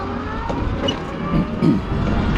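A Sparta Captain 80 electric scooter running on a lithium-ion battery, ridden in first gear at about 26 km/h, gives a steady, close rushing drone of motor and road noise with slight swells and no talk.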